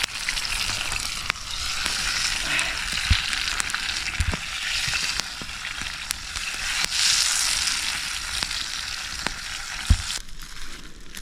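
Potatoes fry in a pan over a campfire in a forest, a close, steady sizzle broken by sharp crackles and occasional stirring clatter.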